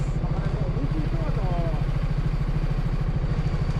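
Motorcycle engine running hard on a rural backcountry track, a steady loud low throb that stays close throughout, with voices calling out over it.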